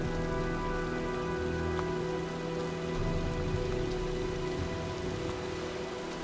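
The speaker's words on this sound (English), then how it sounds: "looks like a storm's coming" Steady, dense rain pours down in a storm in the game Heavy Rain, an even wash of drops on surfaces that continues without a break, with a low sustained tonal hum underneath and no voices.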